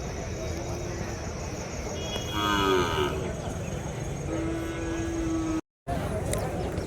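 Cattle low at a native cattle market in Madarapalli, Tirupattur district, where bulls and calves are on sale. Two drawn-out moos rise over a busy outdoor background with voices and traffic, and the sound cuts out briefly near the end.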